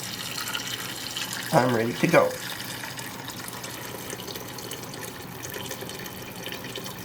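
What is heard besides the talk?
hot water from kettle poured over chicken for stock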